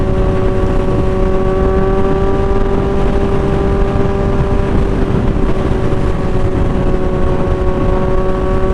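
A Kawasaki Z1000R motorcycle engine running loud and close, a strong steady drone with a constant pitch and no voices over it.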